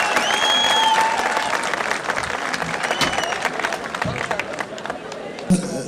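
A university festival crowd applauding as two guest artists walk on stage, a dense burst of clapping that thins out over several seconds, with a voice and some crowd chatter mixed in.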